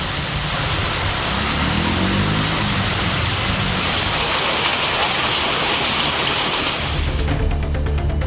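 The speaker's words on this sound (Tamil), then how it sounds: "தேனி மற்றும் பெரியகுளம் சுற்றுவட்டாரத்தில் சுமார் 1 மணி நேரம் மழை பெய்தது" Roughly an hour of rain around Theni and Periyakulam in Tamil Nadu, heard as a steady, dense hiss of falling rain throughout, with a low rumble of passing traffic mixed in.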